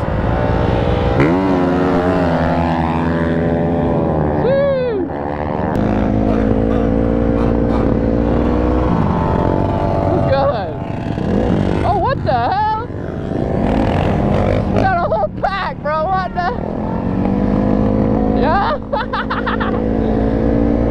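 Two-stroke 450 dirt bikes race past with loud, high revving engine whine that rises and falls as they accelerate and shift, near and dominant, while people shout and talk excitedly over the noise.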